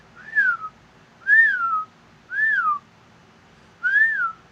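A 90s children's pull-string toy whistles as the string is drawn, four separate rising-and-falling whistle tones at a steady rhythm with short gaps, clear and alone.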